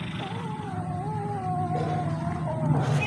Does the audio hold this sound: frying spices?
no